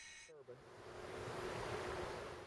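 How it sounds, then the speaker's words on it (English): Water pours out of the Monroe Powerhouse into the Loup power canal, a broad, steady rushing roar that swells in after a brief moment of other noise at the start. "This is the side of the Monroe Powerhouse where the water exits and continues on its journey down the canal."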